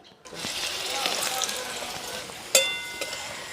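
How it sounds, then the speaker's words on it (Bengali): Chopped carrots hitting hot oil in a pan, a sudden sizzle that settles into steady frying, with a sharp metallic clink from a utensil partway through. "প্রথমে আমি গাজরটা ভেজে নেবো"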